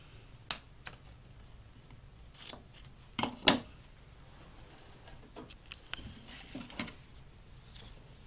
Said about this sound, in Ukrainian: Оце в мене завжди погано виходить оце зірвати оцю стрічку із самого скотча